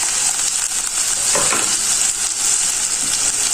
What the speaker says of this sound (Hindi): इसमें डाल देंगे 5 से 6 हरी मिर्चें काट के रखी हुई हैं मैंने